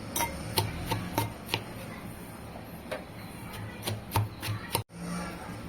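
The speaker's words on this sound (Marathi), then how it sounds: "एकदम हलक्या हाताने मी हे कुटून घेते" Green chilies pounded gently for Maharashtrian thecha, a series of light, sharp knocks at an irregular rhythm, close and fairly quiet, over a soft steady background with no talk.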